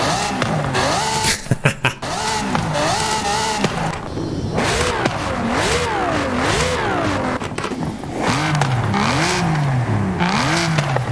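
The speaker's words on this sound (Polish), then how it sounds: "No i tutaj 7 litra V12 brzmi jak V12, no nie?" A 7-litre V12 car engine in Forza Horizon 5 revs loudly, rising and falling through repeated swooping pitch sweeps with a few sharp crackling bursts near the start, close and continuous, with no talk.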